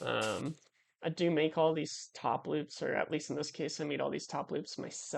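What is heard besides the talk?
No distinct noise like a dog, phone or traffic.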